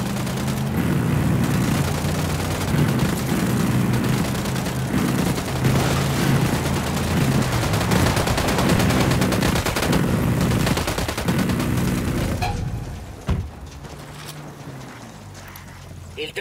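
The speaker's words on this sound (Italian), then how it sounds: "Fuoco, fuoco, fuoco! Sparo!" Dense, continuous video game gunfire with rapid automatic bursts and booms, loud and relentless, with voices shouting in Italian, then it suddenly drops to quieter scattered shots.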